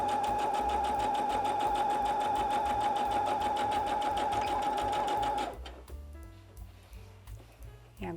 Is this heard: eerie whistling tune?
no